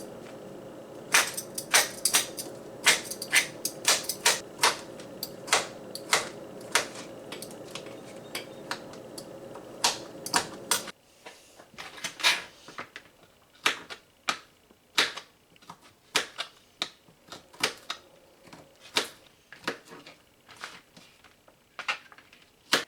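Knife chopping ginger and garlic on a cutting board, a run of crisp, quick rhythmic taps over a low hum, then sparser, uneven cuts with short pauses once the hum stops.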